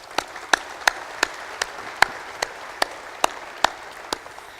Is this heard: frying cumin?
no